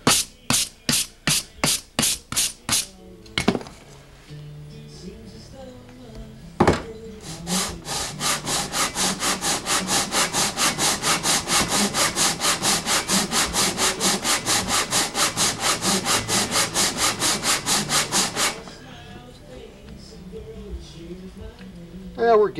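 A Harley-Davidson Shovelhead cylinder head is hand lapped by rubbing it across a flat surface. A few slow, separate scraping strokes are followed by a long run of fast, even back-and-forth rasping that then stops, with no voices.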